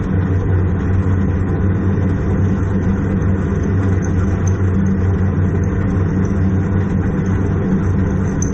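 A noisy metal lathe taking a one-tenth cut with a brazed tungsten carbide tip on patchy hard steel. It gives a loud, steady, close drone with a constant thin high whine on top and no pauses.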